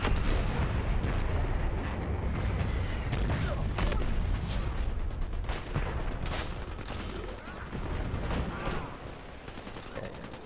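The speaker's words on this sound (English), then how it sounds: "Let's try the shotgun out." Shotgun blasts in the online shooter Dirty Bomb, sharp bursts over a dense, continuous battlefield din of other gunfire and explosions, loud and close throughout.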